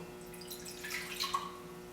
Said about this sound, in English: we just need to pour this same amount of wine into the cocktail glass